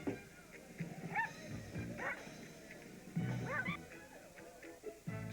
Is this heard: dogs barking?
yes